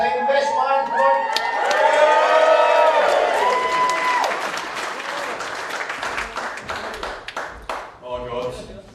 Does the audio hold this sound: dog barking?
no